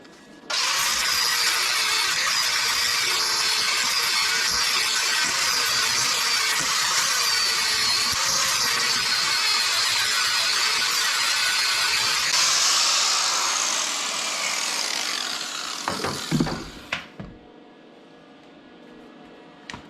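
A power tool grinding down the head of a bolt while working on a 1978 El Camino, a loud, steady high whine running about fifteen seconds before spinning down, with a few clanks as it stops.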